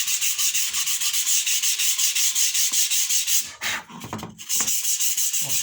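Rhythmic back-and-forth rubbing of 80 grit sandpaper over a wooden truss bridge end support, close and steady, with a brief pause and a few irregular strokes before the even rasping resumes.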